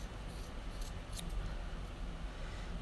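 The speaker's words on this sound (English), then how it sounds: "I'm gonna use my hand as a guide here for trimming my yarn." Scissors snipping short lengths of yarn for tassels, a few quick faint cuts in the first second and a half, then only a soft background hiss with no talking.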